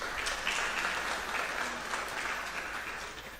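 Quiz audience clapping for the contestants, a fairly faint, steady patter of many hands that tapers off slightly toward the end, with no voices over it.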